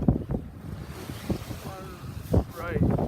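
Sailboat sailing close hauled in wind, with steady wind noise and rushing water against the hull; a voice is briefly heard.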